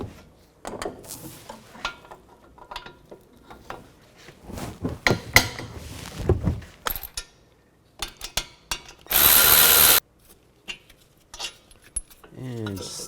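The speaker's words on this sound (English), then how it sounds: "take a 17mm socket and take the two caliper bracket bolts out" A 17mm socket on a ratchet removes the caliper bracket bolts on a 2009-15 Toyota Prius during a front brake job. Close clicks, clinks and metallic handling noises come in bursts, with a brief louder mechanical whir partway through.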